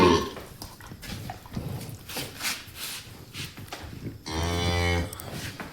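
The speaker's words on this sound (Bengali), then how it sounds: "এদিকে দেখি যে গরু ডাকাডাকি করতেছে" Cows on a farm with a newborn Holstein Friesian calf, recorded late at night: a close, loud, drawn-out moo rises near the end after scattered rustling and movement sounds.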